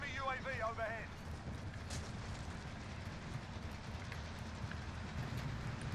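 A train rumbles steadily in Call of Duty: Warzone, a dense low rolling roar with clattering and a brief voice-like sound near the start.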